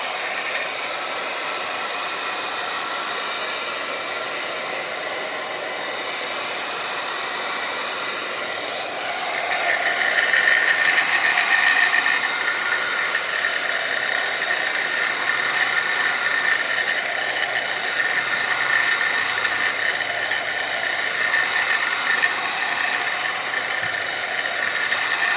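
A heat tool drying a watercolor card blows in a steady, loud whooshing drone that stays unbroken and strengthens a little partway through.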